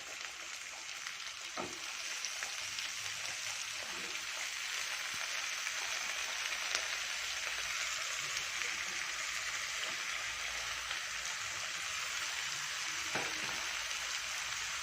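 A quarter kilo of finely chopped brinjal fries in a pan, a long, constant soft sizzle with a few faint stirring knocks underneath.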